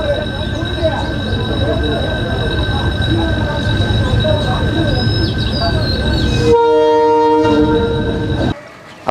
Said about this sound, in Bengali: ইতিমধ্যে মনে হয় ট্রেন চলে আসছে।